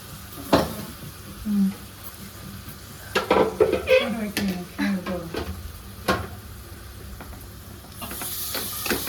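Tomatoes frying in a home kitchen pan, with a low hiss and sizzle and a few clattering knocks of a utensil against cookware, plus brief voice-like sounds in the middle.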